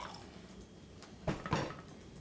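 Tequila is poured into glasses, giving a few soft splashing, trickling bursts of liquid over quiet room tone, close but faint.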